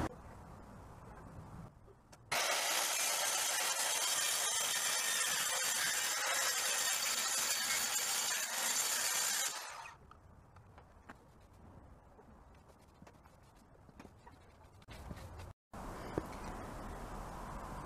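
Power saw cutting board sheets for the sides of a garden shed, a loud, steady harsh whine running for about seven seconds, then dropping to quieter handling noise before another brief cut begins near the end.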